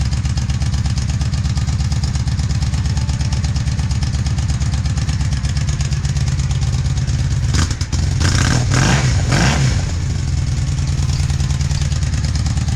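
A Honda Magna cruiser motorcycle engine runs at a loud, steady, throbbing idle close by, then revs up with a few sharp bursts and clattering before settling back.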